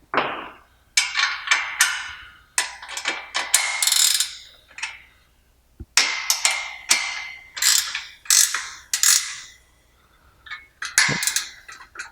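A ratchet tightens a bolt on a CrossFire bracket in close, loud bursts of quick clicking, several rhythmic runs separated by brief pauses, with no talking.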